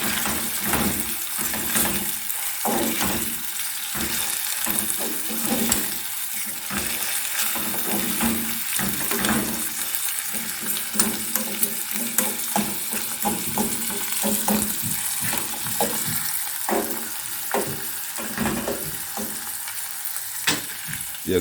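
Saltfish frying in a hot pan for Jamaican ackee and saltfish, giving a steady, close sizzle with scattered crackles and pops throughout, no talking.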